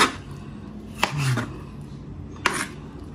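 Knife chopping raw chicken meat finely on a board for fried kuey teow: two crisp, distinct chops about a second and a half apart over low room noise, no voices.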